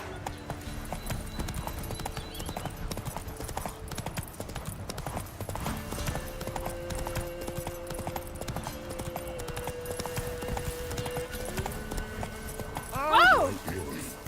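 Horse hooves clip-clop at a steady walking rhythm in The Witcher 3 over a soft game ambience, and a short whinny rises near the end.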